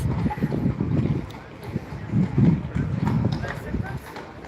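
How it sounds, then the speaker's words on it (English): Hooves clop along a street in Salzburg, Austria amid wind and outdoor bustle, with people talking nearby; the hoofbeats are soft and partly masked. "A horse is passing by, you guys."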